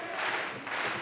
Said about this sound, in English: And the crowd coming alive here.